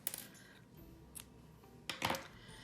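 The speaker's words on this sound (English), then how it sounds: "So I'll go ahead and cut that." Scissors snip through a length of embroidery floss at a quiet indoor crafting table, a few faint, brief clicks and cuts with a sharper double snip near the end.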